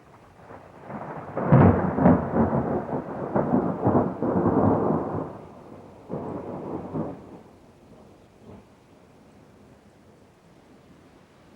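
Thunder rumbles over a deforested stretch of Amazon rainforest about 200 km inland, with loud rolling bursts and rain, then fading to quieter rumbles and a soft steady patter.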